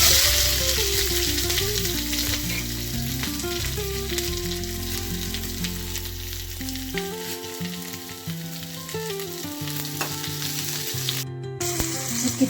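Onion, garlic and curry leaves frying in oil for a fresh sardine curry, a constant hiss of sizzling that sits under loud background music with a steady melody and beat throughout.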